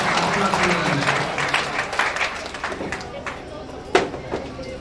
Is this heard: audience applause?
yes